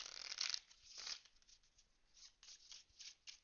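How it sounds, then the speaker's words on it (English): A deck of playing cards being shuffled by hand, with a crisp riffling burst near the start followed by a few quieter, scattered flicks and taps, close and soft. "Do another shuffle here real quick."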